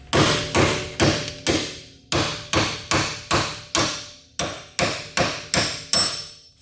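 Hammer blows drive parts into a Nissan 240SX, about a dozen sharp metallic strikes in a steady, slightly uneven rhythm with short pauses between groups, close and loud with no talk.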